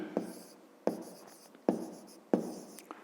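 Pen or pencil writing on paper during a Ukrainian fifth-grade maths exercise about rectangles, with four distinct bursts of scratchy strokes at a steady pace, close and clear, with no talking.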